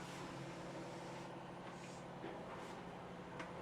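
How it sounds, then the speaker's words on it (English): A recycling truck works outside, its engine a faint, steady low rumble heard from a distance through walls, with a few soft mechanical hisses and clanks rising briefly above it. "We got a recycling truck out here."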